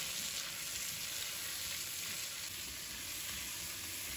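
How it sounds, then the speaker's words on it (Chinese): Winter melon slices stir-frying in a hot wok give a steady, dense sizzle that holds evenly throughout, with no voices. "炒香后，再把冬瓜片放入锅中，"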